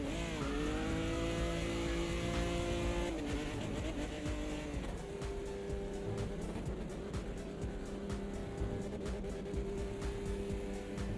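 A race car in the sim racing game Automobilista 2 drives hard, its engine whining through rising revs and gear changes before settling into a steady drone with tyre and kerb rumble, no talking.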